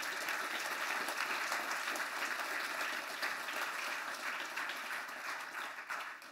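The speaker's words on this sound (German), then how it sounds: "hier ist nochmal ein richtiger Applaus nötig" Sustained applause from a seated audience at a book fair event fills the room, a dense, steady wash of clapping that holds throughout and tapers slightly at the end.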